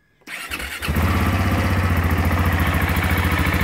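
A motorcycle engine cranks briefly, catches and settles into a loud, steady, rumbling idle close by, with no talking.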